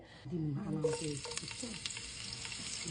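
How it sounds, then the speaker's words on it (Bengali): A small amount of onion added to hot oil sizzles up into a bright crackling fry with light stirring, while a voice speaks briefly at the start. "প্রথমে পরিমাণ মতো তেলে অল্প পরিমাণে পেঁয়াজ দিয়ে দেওয়া হচ্ছে"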